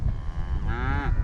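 A calm cow on a ranch moos once with a long, drawn-out bellow over steady rumbling background noise, loud and fairly close.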